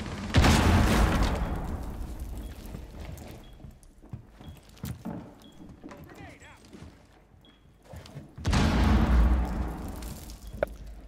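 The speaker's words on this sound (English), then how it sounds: "Frag going in" A frag grenade going off in the video game Rainbow Six Siege, heard as a heavy, booming blast at the start and another near the end, with quieter thuds and footsteps between and people talking.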